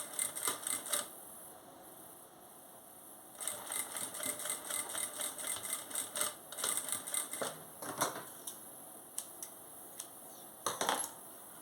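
A sewing machine runs a straight 1 cm seam along the sides of a fabric wallet with dividers, in several bursts of fast mechanical stitching separated by brief pauses, close and clear with no talk.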